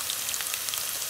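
Green chillies frying in a pan for a khichuri dish, giving a steady close hiss and crackle of hot oil with fine pops, no voices.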